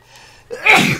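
A person lets out a single loud, close sneeze: a short intake followed by a sharp, breathy burst, heard alone with no talk over it.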